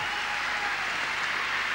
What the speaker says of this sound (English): You could hear squeals, screams of delight from the Australians in the audience.